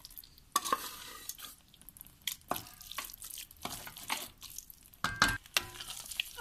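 Boiled turnip paste is worked into soft spiced peas in a pan for shalgam bharta, with quiet wet scraping and stirring strokes coming in irregular bursts over a faint sizzle. No voices are present.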